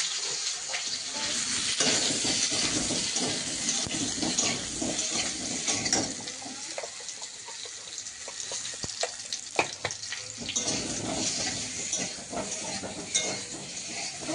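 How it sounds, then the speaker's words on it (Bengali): Potatoes fry in hot oil in a home kitchen with a continuous bubbling sizzle and some clattering stirring, fairly close and steady throughout. "তেল গরম হয়ে গেছে, আলুটা ভাজতে লাগে"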